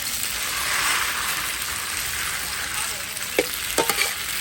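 Marinated pork stir-fried in a hot wok for Thai rad na gives a steady, close sizzle and frying hiss, with a few sharp scrapes and clinks of a utensil against the pan near the end.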